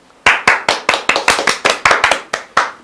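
A small audience claps in a crisp, steady burst of about a dozen distinct claps, ending abruptly; it's heard at a live talk at a physical education festival where a middle school PE teacher is taking the stage.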